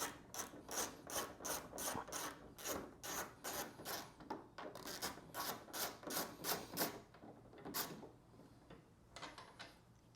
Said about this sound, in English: Now to finish the removal of the headlight, you got one 10mm bolt right here.